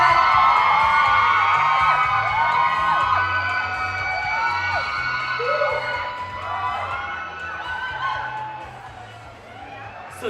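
A large crowd screams and cheers continuously at a film premiere in Thailand, high-pitched shrieks and whoops layered over one another, loud and sustained throughout.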